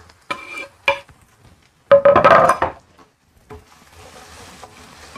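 Onion and carrot going into a pan to fry, heard as clinks and scraping stirs of a utensil against the pan, a louder burst of stirring, then a faint steady sizzle close by.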